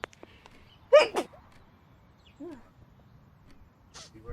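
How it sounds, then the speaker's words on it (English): A single sharp sneeze in a video game, Marie's Room, bursts out loudly against quiet background noise, followed later by a few faint, brief sounds. "Sneeze, sneeze."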